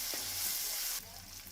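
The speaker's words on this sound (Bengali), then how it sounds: "রসুনটা একটু ভেজে নিই" Garlic paste frying with chopped green chillies and already fried onion in a pan for a tilapia fish recipe: a bright, continuous sizzle that drops abruptly to a softer frying hiss near the end of a short moment.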